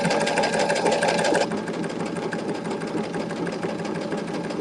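A sewing machine does free motion quilting on a fabric applique, stitching in a fast, steady mechanical whir close up, then dropping to a slightly quieter, rougher running sound partway through, with no talking.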